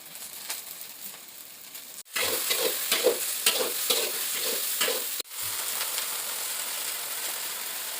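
Drumstick leaves (sajana saga) stir-fried in a pan, with a steady loud sizzle and rhythmic scraping strokes of a spatula, close and alone.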